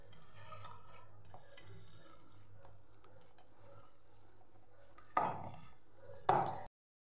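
Green garlic relish being squeezed and mixed by hand in a bowl, a soft continuous rasping and rubbing with two louder, brief scraping bursts near the end.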